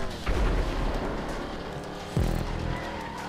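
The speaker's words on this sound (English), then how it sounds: "Okay, somebody blew up" A race car blows up during a GTA 5 stunt race: a steady engine roar and tyre noise, then a sudden heavy boom near the end that keeps rumbling, with no talking.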